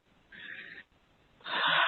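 A person draws a deep breath in two wheezy, airy pulls, a short thin inhale, a pause, then a longer, louder rushing intake, close and isolated.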